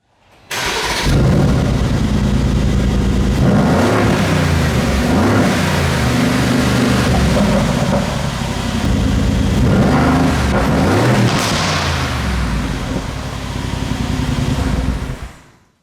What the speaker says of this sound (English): we can start the car and hear the valved exhaust, both in normal and track modes.